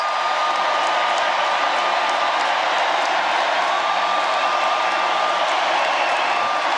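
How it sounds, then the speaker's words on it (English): Crowd at the Democratic National Convention roaring for Kamala Harris's 2024 speech, a dense, sustained wash of applause and cheering, distant-sounding and steady throughout. "Thunderous applause."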